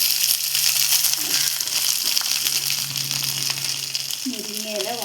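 Drumstick leaves hit hot oil in a pan, giving a steady crackling sizzle with a low hum beneath and some stirring clatter toward the end, while a voice talks.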